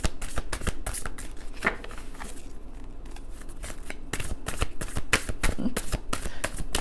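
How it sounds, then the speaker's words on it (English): A tarot card deck is shuffled repeatedly at close range, producing rapid riffling bursts with brief pauses between them. "Cards don't want to shuffle."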